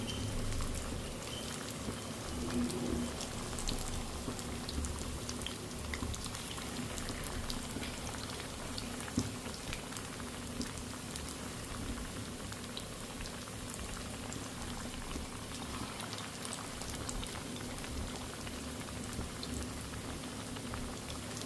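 Corn fritters (mokkajonna garelu) frying in hot oil, a dense, even bubbling sizzle that carries on steadily and alone throughout.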